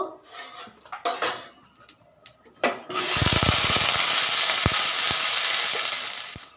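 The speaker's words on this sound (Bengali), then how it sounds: "কড়াইতে তেল দিয়ে দিচ্ছি বেগুনটা ভাজবো" Utensils clatter and scrape against a wok, then a loud steady sizzle of eggplant frying in hot oil fills the rest, with occasional knocks.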